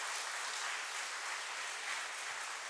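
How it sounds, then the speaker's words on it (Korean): Dense, sustained applause from a large audience at a celebration during a cake-cutting ceremony, steady and unbroken throughout, heard from some distance. "우리 다 함께 큰 박수로 함께 축하해 주시길 바랍니다."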